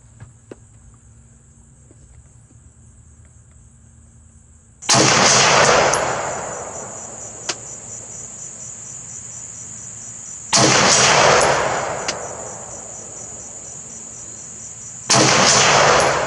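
An MSAR STG-556 rifle with a 16-inch barrel fires three sharp, loud shots several seconds apart outdoors, each with a ringing decay, while a high insect-like whine hums steadily underneath.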